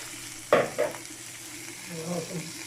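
Broccoli and mixed vegetables fry in a pan with a soft sizzle, opened by a sharp clatter and a second knock, then a low steady frying hiss continues as a faint voice murmurs toward the end.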